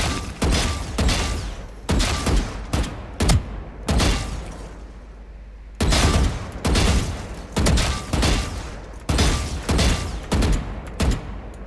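Gunfire in a shooting video game rings out in loud, close bursts of rapid shots, separated by short pauses, with one longer gap midway and no talking.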